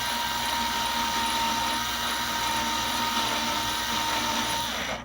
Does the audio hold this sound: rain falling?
no